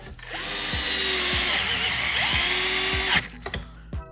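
Power drill driving the center bolt of a window regulator in a 2002 Toyota Corolla door, three rising whirring bursts in quick succession, close and loud, followed by a few small clicks and clunks.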